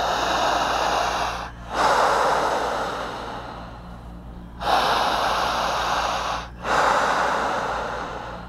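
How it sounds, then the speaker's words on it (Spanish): Slow deep human breathing, long drawn inhales and exhales close to the ear, three full breath cycles separated by brief pauses, alone with no talk. "Siga mi respiración."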